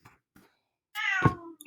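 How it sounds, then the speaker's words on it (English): An indoor cat lets out one loud, drawn-out yowl at dogs outside, preceded by a couple of faint short sounds and ending with a brief trailing cry. "you've heard one of my cats yell at the dogs outside"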